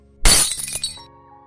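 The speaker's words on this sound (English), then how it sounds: "The coffee cup falls to the floor and shatters." Coffee cup dropping onto a floor and shattering, a sudden loud crash of breaking ceramic followed by a brief clatter of pieces settling, then a faint ringing tail.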